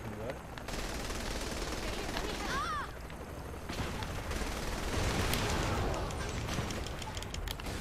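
Rapid gunfire from snipers and other weapons in the video game Saints Row the Third Remastered, loud sustained bursts filling the scene, with a voice talking over the shooting.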